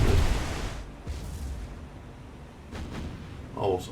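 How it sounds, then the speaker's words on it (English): A ship's magazine explosion in the naval game War on the Sea, opening with a heavy booming blast that decays into rumbling, followed by fainter distant thuds and a crackling burst near the end. "Also a magazine explosion, I would say."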